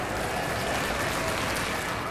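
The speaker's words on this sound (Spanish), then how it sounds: "Un aplauso." Applause fills the room at a reaction session to a reggaeton music video, a steady dense clapping throughout with no gaps.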